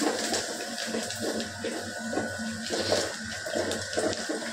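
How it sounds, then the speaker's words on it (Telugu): Water pours into tamarind rasam in a cooking pot, a steady, close splashing and sloshing stream that carries on throughout. "కొద్దిగా నీళ్ళు అయితే పోసుకున్నాం."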